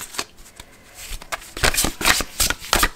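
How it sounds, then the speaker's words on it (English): A Goddess Spirit Oracle deck of thin-stock oracle cards is given a quick hand shuffle, close up: rapid papery riffles and flicks build into a brisk, dense run of card noise. "I'm going to give this a little shuffle."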